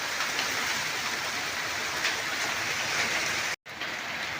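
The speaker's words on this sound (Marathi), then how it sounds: "आता पाऊस चालू झाला" Rain falls on a farm where crops were being sprayed, making a steady, even hiss throughout, broken only by a momentary dropout near the end.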